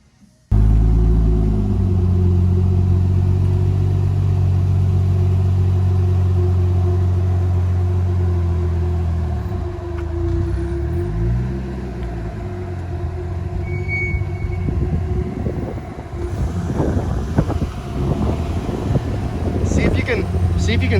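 A 2JZ-powered car with a Tilton ST246 twin sprung-disc clutch idles with a steady, close, deep engine drone, then the rumble wavers as the clutch is eased out with little throttle.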